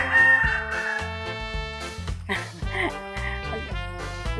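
Fighting roosters (gamecocks) on a farm crow loudly and close by with long harmonic calls, mixed with clucking and shorter squawks.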